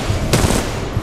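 Rapid machine-gun fire from the Titan BT-7274 in the Titanfall 2 video game, a loud, dense, brief burst of gunfire with no speech.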